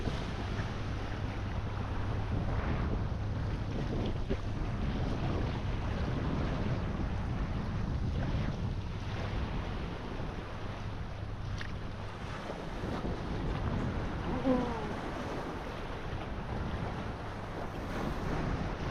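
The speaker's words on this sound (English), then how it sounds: "And here come the waves." Sea waves wash in at a sandy beach at Ayia Napa under constant wind buffeting the microphone. The surf rumbles and hisses steadily for the whole stretch, with no voices.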